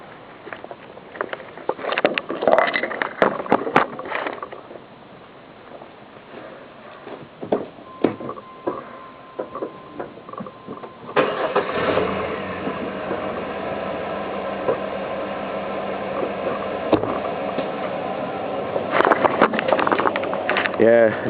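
A pickup truck's engine cranks and catches partway through, then settles into a steady, fairly quiet idle that continues to the end after some earlier handling noises.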